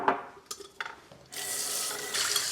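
Tap water runs steadily into a glass sourdough starter jar being rinsed out, starting after a few soft knocks and clinks and then flowing as a continuous close rush.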